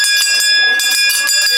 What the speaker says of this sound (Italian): Si entra nel tempio suonando la campana come a chiedere permesso.